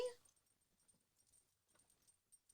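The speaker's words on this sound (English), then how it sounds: "I have a puppy now, and the dogs are barking in the background." Small pet dogs, including a puppy and pugs, make faint whimpers and a few soft yips in a quiet indoor room, scattered in brief bursts.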